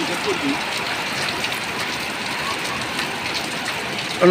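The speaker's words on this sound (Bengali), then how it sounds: "হঠাৎ কি সুন্দর বৃষ্টি হচ্ছে দেখেন" Sudden rain falls steadily in a broad, even hiss with no pauses, close and moderately loud throughout, with a brief louder burst at the very end.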